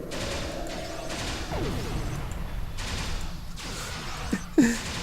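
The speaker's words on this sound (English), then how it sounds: "We're just over here shooting the wildlife." Weapon fire from wildlife being shot in Star Trek Online, heard as sci-fi energy blasts and zaps over a steady game ambience, with a louder burst near the end.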